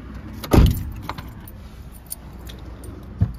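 A car left running with keys jangling, a sharp metallic rattle of keys up front followed by lighter jingles and a soft engine hum in the background, no speech.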